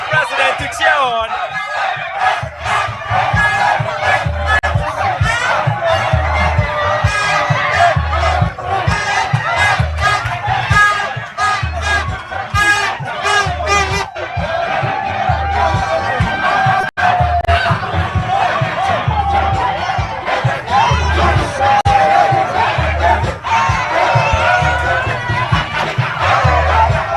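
A dense stadium crowd roars and chants continuously after a Ghana goal at a World Cup match against Panama, loud and sustained with shouting and whistles throughout, and a commentator's voice running over the noise.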